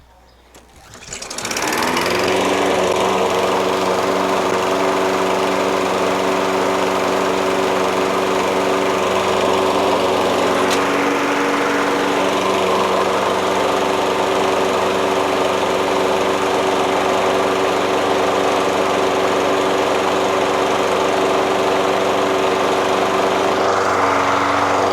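A Toro Recycler self-propelled lawn mower with a Kohler XT675 6.75 engine starts up and runs steadily, a loud continuous engine drone with a strong low hum that carries on without a break to the end.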